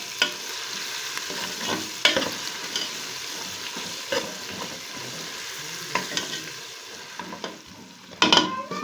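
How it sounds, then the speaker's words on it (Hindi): Steady sizzling of ginger-garlic paste and onions frying in a pan, with intermittent scraping and stirring clatters throughout, no voices. "अदरक लहसुन के पेस्ट को भी प्याज के साथ 2 मिनट तक फ्राई करेंगे।"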